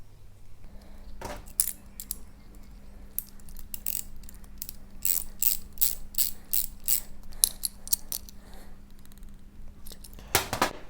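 Ratchet tightening footrest bolts on a Kawasaki Versys X 300, bursts of quick clicking pawl strokes close to the mic over a faint steady hum, pausing and resuming several times.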